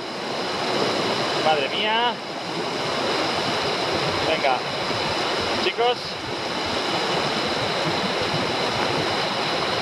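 A mountain river rushes steadily along the trail near Everest Base Camp in Nepal, a loud continuous roar of water with wind, and a few short spoken exclamations over it.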